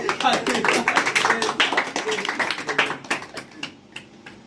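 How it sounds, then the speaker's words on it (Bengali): A group claps together at a birthday celebration among friends, a dense run of rapid, overlapping claps mixed with voices that thins out toward the end. "হ্যাপি বার্থডে দোস্টকে সেলিব্রেশন সবাই তালি"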